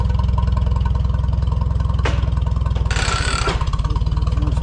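A tractor engine works hard during logging, its rapid, regular exhaust pulsing loud and close, with a couple of brief metallic bursts of noise as the throttle is opened and the engine holds its revs.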